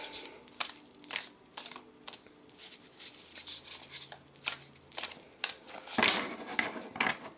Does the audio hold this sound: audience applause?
no